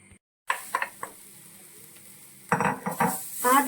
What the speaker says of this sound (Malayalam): നമുക്ക് ഈ തേങ്ങ നന്നായിട്ടൊന്ന് വറുത്തെടുക്കണം